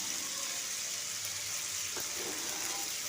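Peeled shrimp frying in a pan with salt and turmeric, a steady soft sizzle that holds evenly throughout, with a faint clink of a utensil partway through.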